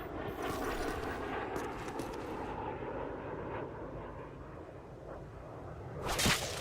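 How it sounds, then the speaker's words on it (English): A quick knife swish slices through a watermelon in a video game, a single sharp whoosh near the end over a faint, steady in-game ambient hum. "Knife the watermelon."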